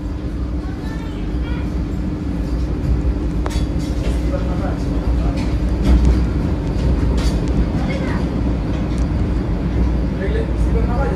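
A Vande Bharat train pulls out of Dumka station on the Howrah to Bhagalpur run. A steady, loud rumble of motors and rails fills the cabin and swells slightly as the train gathers speed, with faint clicks and creaks.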